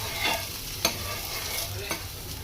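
Butter dosa sizzling on a hot pan for a Davangere-style benne dosa, a steady fry hiss with a couple of sharp scrape clicks from the spatula, close and alone without talk.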